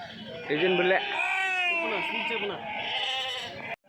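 Nellore Jodipi sheep at the Kadiri livestock market let out a drawn-out wavering bleat, with other animal cries and market voices close by.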